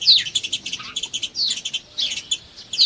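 Sparrow chirping in quick, high, bright tweets, repeated rapidly in short bursts, close and clear with no other sounds.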